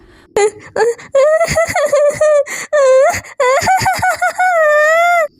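In a spooky night scene from a cartoon, a voice performs someone crying outside a house. Tremulous, wavering wails and sobbing moans rise and fall in short broken bursts, close and loud.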